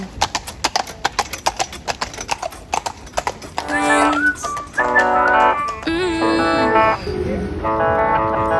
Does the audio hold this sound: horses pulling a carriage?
yes